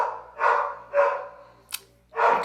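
A dog indoors barks repeatedly nearby, giving four loud, evenly spaced barks with a short yip between the second and third.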